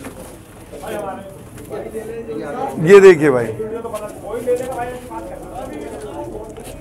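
Pigeons brought from Punjab coo softly from close by while someone talks over them throughout.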